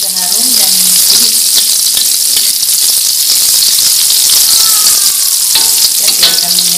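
Sliced shallots frying in hot oil for street-style nasi goreng, a steady dense sizzle throughout with occasional stirring clinks, close and loud, no talk.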